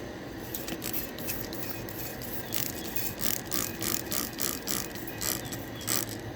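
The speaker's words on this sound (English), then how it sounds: "let's go ahead and spray it down again" Faint, quick hissing bursts of liquid spraying onto a Mustang wheel in a rapid, uneven rhythm, one squirt after another.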